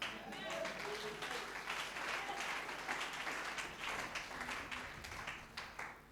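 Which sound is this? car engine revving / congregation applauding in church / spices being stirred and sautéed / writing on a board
congregation applauding in church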